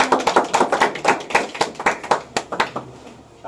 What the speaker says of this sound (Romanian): Îi aplaudăm pe toți